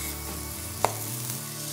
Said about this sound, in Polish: Bakłażany się smażą